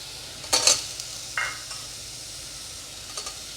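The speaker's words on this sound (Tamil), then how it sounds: "இப்போ நல்லா வதக்கிக்கலாம்" Chopped carrot and capsicum sizzle softly in a pan while a utensil stirs and scrapes a few times, close and fairly quiet.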